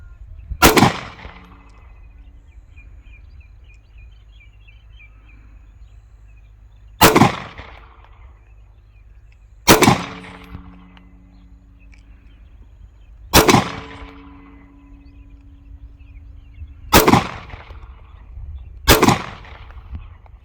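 Six sharp, loud 9mm pistol shots from a Canik TP9 SF Elite fired at a 25-yard target, spaced irregularly a few seconds apart, each with a quick decaying tail and no talking.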